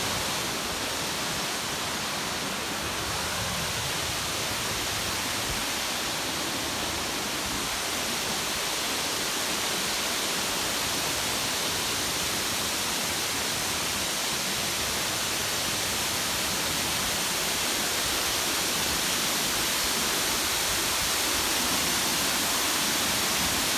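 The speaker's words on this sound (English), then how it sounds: "We had this beautiful lower cascade at Denny Falls, and then the actual waterfall up above" Denny Falls waterfall roaring nearby, a constant dense rush of falling water that stays loud and unbroken from start to finish, with no talking.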